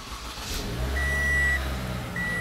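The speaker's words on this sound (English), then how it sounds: "It's a push to start for the engine," The engine of a 2013 Toyota Camry comes to life with a push-button start, giving a low rumble that swells and then settles into a steady idle. Soft electronic chimes sound over it.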